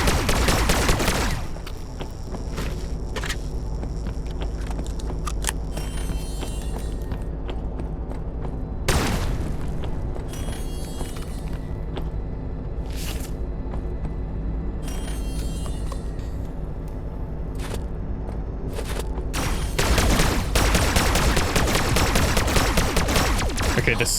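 Rifle fire in the train survival crafting game Everrai, a loud, sustained barrage of shots over a low rumble, with bursts and sharp transients scattered across about twenty seconds.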